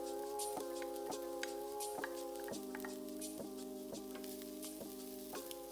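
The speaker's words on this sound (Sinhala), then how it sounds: "දැන් මේ තෙම්පරාදුවට කඩාගත්ත ඉන්දියාප්ප එකතු කර ගන්නවා." Broken string hoppers stirred into a sizzling tempering in a pan for koththu, with a steady, faint fry under repeated rhythmic scraping taps of the spoon and a sustained tonal hum throughout.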